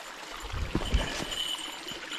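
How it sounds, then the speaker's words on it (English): A small forest creek trickles and flows along a backpacking trail, a faint, soft bubbling of water with a few gentle low splashes. "this is an absolutely beautiful creek"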